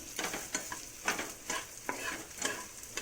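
Onion chutney mixture with dal and a red chilli is stirred in a pan, producing a regular rhythm of close scraping strokes over a soft sizzle, with no talking.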